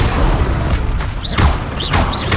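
Loud booming blasts from the Bombarda spell in the game Hogwarts Legacy: heavy, rumbling impacts with crackling, ringing debris layered over a constant low roar.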